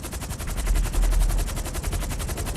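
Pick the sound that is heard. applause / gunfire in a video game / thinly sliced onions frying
gunfire in a video game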